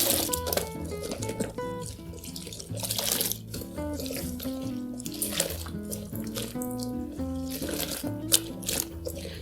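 Water runs steadily from a tap through a wig in a shampoo bath, a continuous splashing flow heard over background music.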